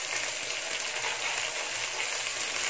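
Carrots and beans frying over high heat in a pan with finely sliced onion, a steady, close hiss and sizzle running unbroken throughout.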